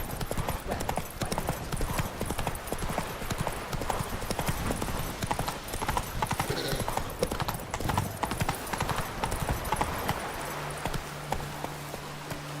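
Horse hooves clip-clop in a steady, fast galloping rhythm in The Witcher 3: Wild Hunt, loud and close throughout, with faint game ambience underneath.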